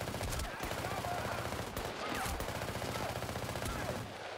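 Rapid bursts of gunfire in the Battlefield Bad Company video game, a dense, steady rattle of automatic shots that runs loud and almost unbroken through the stretch, with faint game noise underneath.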